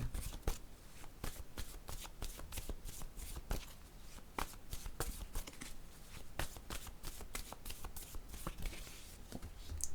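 A deck of cards shuffled over and over at close range, a steady run of crisp riffling and snapping bursts for the whole stretch with no talking.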